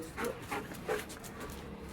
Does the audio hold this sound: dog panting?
yes